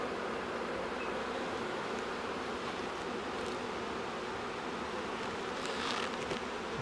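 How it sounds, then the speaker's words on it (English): Honey bees buzz in a dense, steady hum around a newly arrived hive, close and constant with faint rustling. "So these are bees that are hatching"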